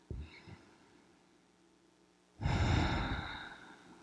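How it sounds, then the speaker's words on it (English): One audible breath, a soft inhale and then a longer, louder exhale, during a resting yoga pose on one side, heard close and alone in a quiet room. "take a breath"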